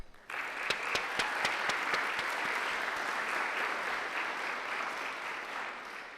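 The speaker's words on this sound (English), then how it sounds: "So please join me in welcoming Craig Kapp." An audience at a lecture claps steadily in a sustained round of applause welcoming a speaker, a dense even patter that starts abruptly and holds strong throughout.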